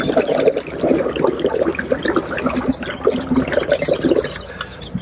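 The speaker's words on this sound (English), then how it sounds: "clear all of the water out of the tube right here" Water sputtering and gurgling as it is blown out through the drinking tube of a hydration pack bladder, a steady wet bubbling close by with no talk.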